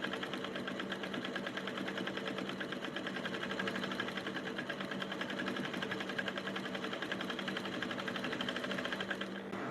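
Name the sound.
sewing machine stitching a shirt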